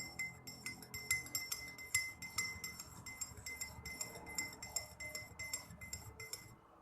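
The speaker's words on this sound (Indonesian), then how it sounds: "Lalu kita campur, aduk sampai rata." Rapid, regular clinking of a stirring rod tapping inside glassware while mixing food coloring into a liquid solution for a chemistry preparation, a steady run of bright taps, fairly quiet and close.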